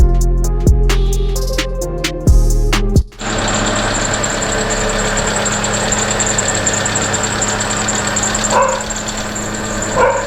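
A car fresh from a clutch repair is started: several short cranking bursts from the starter, then the engine catches and settles into a loud, continuous idle with a steady rumble that runs to the end.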